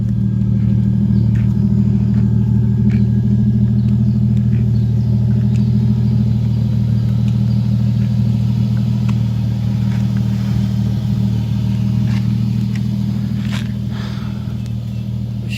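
A vehicle engine idles after a power steering pump rebuild, giving a steady, close low rumble with a slight persistent noise, running alone and unchanging throughout.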